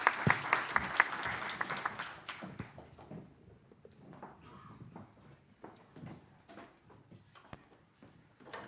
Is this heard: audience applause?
yes